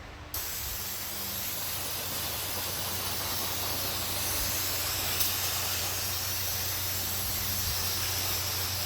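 Brake cleaner sprays in a long, steady hiss onto the rear disc park brake of a 2004-2011 Ford F-150, close and continuous for several seconds with no talking.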